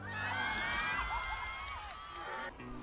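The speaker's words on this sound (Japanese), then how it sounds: "デスワーム選手に大きな拍手を" A crowd cheers and shouts loudly throughout after a match in the video game ARK, with whoops and excited voices, fading slightly near the end.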